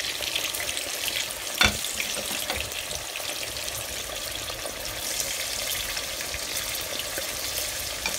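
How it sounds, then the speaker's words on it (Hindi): Green chillies and onions frying in a pan over high heat, giving a steady, even hiss of bubbling oil close to the listener, with one brief sharp clink near the start. "हमने इसके साथ ही प्याज डाल देने हैं, और जब मिर्ची हमारी फ्राई हो जाएगी हम उसको निकाल लेंगे"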